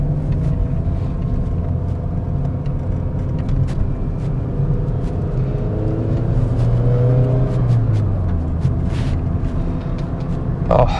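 Fiat Punto HGT driving at speed on faster open roads, a steady close engine drone with road rumble throughout and a rising tone of acceleration midway, no talk.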